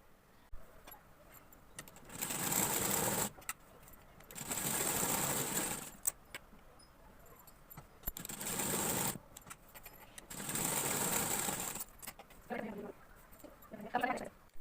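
A sewing machine stitches tucks into a blouse in four bursts of fast, steady whirring, with short quiet pauses between runs and faint handling clicks.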